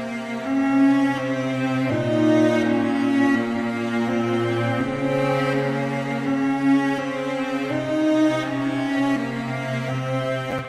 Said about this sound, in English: I'll play on the cello here.